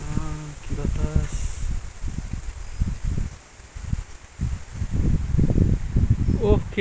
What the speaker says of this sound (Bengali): ওহ, কি ঠান্ডা বাতাস!